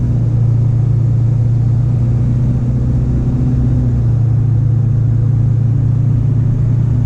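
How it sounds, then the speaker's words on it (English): A loud, steady low engine rumble drones on with a slight swell partway through and no voices, heard from a vehicle doing a burnout. "Wow, nice burnout."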